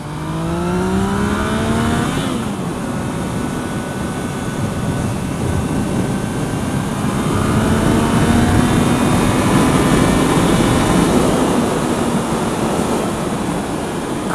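Yamaha MT-09 motorcycle with an Akrapovic exhaust accelerating hard on a test ride, its engine note rising through the gears in loud rising harmonic sweeps under heavy wind rush, close and continuous.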